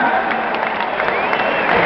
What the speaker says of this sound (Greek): όλα τα παιδάκια να χειροκροτήσουμε όλα τα παιδιά